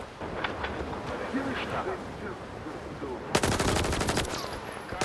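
Gunfire in the video game S.T.A.L.K.E.R. 2: a quiet, low ambient stretch gives way to a sudden loud, rapid burst of shots that continues to the end.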